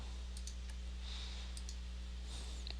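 A computer mouse clicks faintly during work in SolidWorks CAD software, a few quick, light clicks in small clusters over a steady low electrical hum, with no speech.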